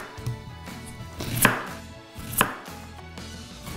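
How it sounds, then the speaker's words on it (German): A knife chops through a large Spanish onion on a cutting board, cutting it into rings, with several distinct crisp strikes in an uneven rhythm, close and clear, with no talk over it. "Ich schneide jetzt schon mal unsere schöne große Gemüsezwiebel hier in Ringe."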